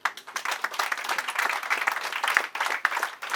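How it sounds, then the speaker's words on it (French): Crowd applause at a customary wedding ceremony, a dense, steady wash of many hands clapping for about three seconds with small swells, fairly close and loud. "sous vos applaudissements"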